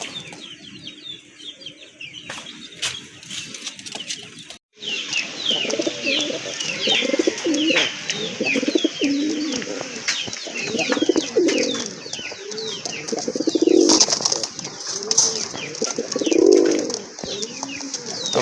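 Pigeons at a pigeon farm coo repeatedly in loud, overlapping throaty calls, with brief wing flaps and other bird chatter in the background.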